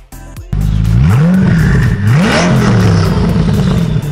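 A Swedish Koenigsegg Agera R hypercar engine revs hard and close: a short idle, then a loud surge with rising and falling revs that swoop up twice before holding a heavy, rough roar.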